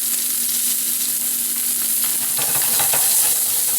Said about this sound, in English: I'm going to add my garlic to the pan